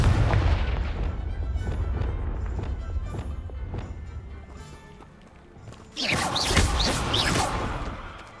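A Confringo spell explosion in Hogwarts Legacy goes off, a loud burst with a crackling, debris-like tail after a stretch of duller thuds and rumbles.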